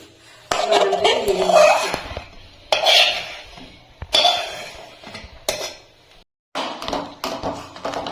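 Fried nuts set down onto an oiled steel plate in a home kitchen while an eggless cake is being made: a series of close clattering, scraping bursts of metal against metal, separated by short pauses.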